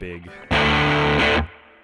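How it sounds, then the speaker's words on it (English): A short burst of loud, distorted electric guitar chord through a boost and distortion pedal, compressed, sustaining for about a second, then cutting off, with quieter playing before and after. "the gain section helps bring those up and gives them some compression and some distortion"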